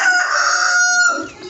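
A rooster crows once on a farm where pigeons and chickens are kept, loud and close: a single long, strained cock-a-doodle-doo that tails off into a brief cluck.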